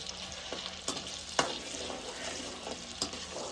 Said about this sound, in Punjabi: ਹੁਣ ਆਪਾਂ ਲੱਗੇ ਆਂ ਜੀ ਆਲੂ ਫਰਾਈ ਕਰਨ